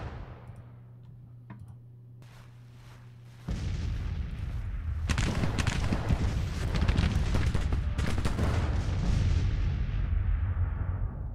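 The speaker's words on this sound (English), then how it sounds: "We are taking artillery fire casualties here, which I don't like one bit." Artillery fire in Grand Tactician: The Civil War during the Battle of Bull Run, starting with faint ticking and then breaking into a loud, continuous rumble of overlapping cannon booms that carries on to the end.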